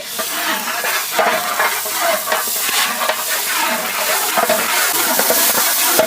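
Ground ginger-garlic paste frying in a pot for chicken biryani sizzles and hisses steadily, with spatters and intermittent scraping stirs throughout, no talking.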